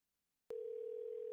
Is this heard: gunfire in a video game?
no